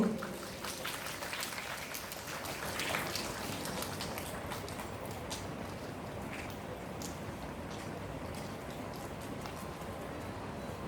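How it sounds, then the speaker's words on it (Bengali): Applause from an audience at a stage event at Rabindra Sadan, Berhampur, a steady wash of many hands clapping that holds evenly for about eleven seconds at moderate distance, with no voices over it. "এক জোরে হাততালি চেয়ে নেব"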